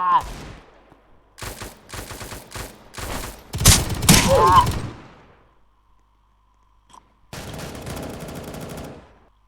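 Gunfire in a video game comes in several loud, close bursts of rapid shots separated by short pauses, with a quiet gap before a final longer volley; a voice may speak faintly between the bursts.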